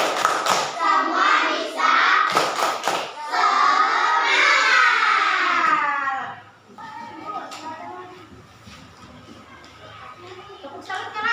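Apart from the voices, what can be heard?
children clapping in a classroom chant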